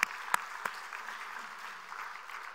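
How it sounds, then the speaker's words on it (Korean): Church congregation applause during a Sunday service, faint and fairly distant: a few sharp claps stand out at the start, then settle into a soft, even wash of clapping. "함께 감사의 박수를 부탁드립니다"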